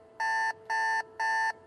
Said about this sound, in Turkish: İyi ki kurmuşum alarmı.